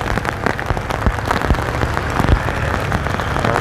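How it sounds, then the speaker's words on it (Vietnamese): Steady rain patters densely on surfaces at Binh Tay Market in Saigon, a constant wash of drops with occasional heavier splats, close and fairly loud. "Chợ Bình Tây lúc trời mưa."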